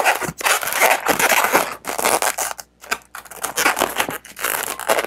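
A white latex balloon is twisted into a small three-finger loop for a balloon animal, giving close, loud squeaky rubbing and scraping bursts broken by short pauses, with no voices.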